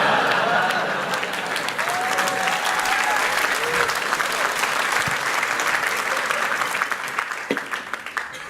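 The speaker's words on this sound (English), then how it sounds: "I have an incentive for you to clap longer" A festival audience claps at length for a speaker at a talk, dense steady applause from a sizeable crowd holding loud for several seconds, with a few whoops and stray voices on top before it thins out toward the end.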